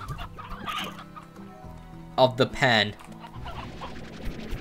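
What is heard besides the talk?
chickens clucking in the video game Slime Rancher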